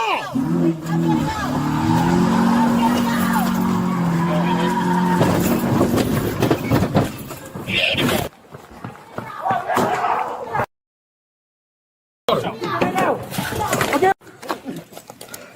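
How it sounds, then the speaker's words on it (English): A stolen Honda Accord crashes into a police cruiser and a brick wall, with loud slamming impacts and skidding amid shouting voices, followed by a brief silence and further jolts and voices. "crashing the stolen car into a police cruiser and a brick wall"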